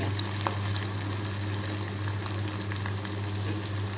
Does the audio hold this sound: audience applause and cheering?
no